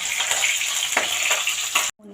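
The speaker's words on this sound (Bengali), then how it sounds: "মাছগুলো খুব আস্তে আস্তে ভাজছি" A large fish with a big head fries slowly in a pan with a continuous crackling sizzle. The sound cuts off abruptly near the end.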